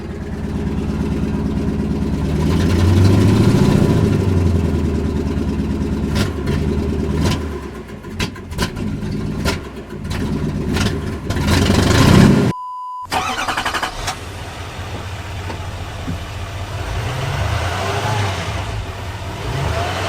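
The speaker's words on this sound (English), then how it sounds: "that brings me to the exhaust note, which is honestly ever so disappointing, but we can't leave MISFIT out, right? We got to include the truck" A pickup truck's exhaust note, a moderately loud engine idle and rumble with a few revs and sharp clicks, then a brief cut before the engine continues running steadily.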